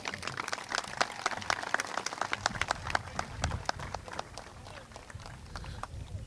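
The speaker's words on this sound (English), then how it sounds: "let's have one more nice round of applause for our 10 senior nominees" A modest round of audience clapping at a 2022 organizational awards ceremony for senior nominees, sparse and distinct individual claps, fairly quiet and somewhat distant, thinning slightly toward the end.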